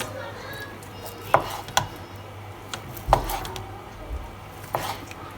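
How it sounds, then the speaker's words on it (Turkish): A knife chops cheese finely on a board for semolina halva in a home kitchen, five or six sharp, separate taps at an uneven pace over a quiet background. "Şimdi peynirleri ince ince doğruyoruz."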